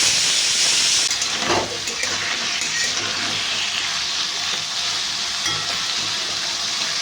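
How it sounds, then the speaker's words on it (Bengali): Potatoes fry in a pan, giving a steady, loud broadband sizzle with hissing steam and a few faint stirring scrapes, with no voices. "আলুগুলোকে লাল লাল করে ভেজে নেবো"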